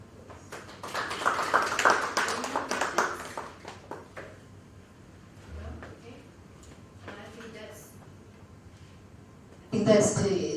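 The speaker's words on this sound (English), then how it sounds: "Round of applause again for our guests today." Audience applause in a hall at an INCEIF university open day, a loud burst of clapping early on that fades under speech, with another burst of claps near the end.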